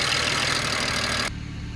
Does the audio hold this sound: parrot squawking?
no